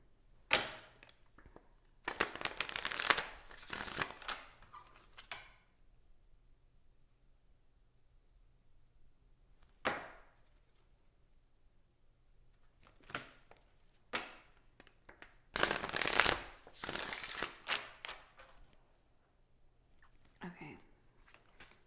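Oracle cards shuffled and pulled during a reading, giving bursts of dense riffling and slapping in a few separate runs with quiet gaps and single taps between, close by.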